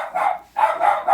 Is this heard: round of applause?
no